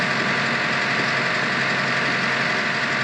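Four-wheel drive tractor engine running steadily while breaking ice about 2 to 3 inches thick, a continuous broadband rumble with no pauses, fairly loud and close, with no voices.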